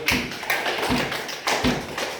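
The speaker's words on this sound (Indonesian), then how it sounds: "tepuk tangan untuk kelompok 3" A classroom claps for group 3, a few loose, uneven bursts of hand claps and taps, close and fairly loud with no talk.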